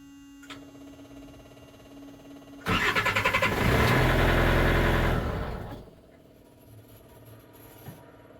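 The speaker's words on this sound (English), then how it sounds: "Now after doing this twice, you can try and start the unit." Diesel engine of a Thermo King Precedent C-600 refrigeration unit starting after fuel-filter change and priming: a short cranking catch, then a loud steady run for about three seconds before it drops back to a quieter hum.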